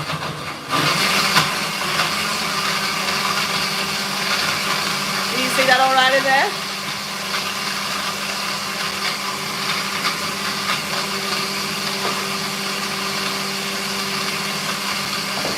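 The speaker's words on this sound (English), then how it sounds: "Whack it on your blender." A blender whirs through a banana smoothie batch of about two cups, its motor hum rising briefly and then settling into a steady drone while a person talks nearby.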